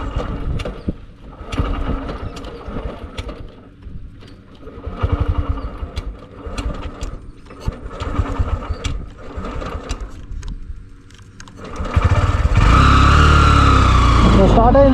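A Honda SP125 motorcycle engine that has covered a lakh kilometres chugs with a rapid ticking idle, then jumps into a louder steady roar near the end, while someone speaks nearby.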